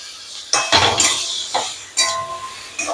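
Boiled potatoes tumble into a pan of jackfruit and prawns, making a few sharp clinks and knocks of utensil on cookware, close and fairly loud, in separate bursts with pauses between them and no talk.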